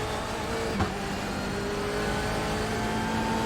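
A BMW M8 race car engine drones steadily at Road Atlanta in iRacing, held under gentle throttle while climbing a hill, a continuous mid-pitched hum with no talk.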